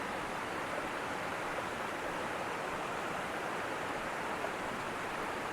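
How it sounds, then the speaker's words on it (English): A roughly 200-foot waterfall in the Smoky Mountains roars as a steady, even wash of rushing water, constant and moderately distant, with no other sounds. "to this waterfall that's roughly 200 feet high"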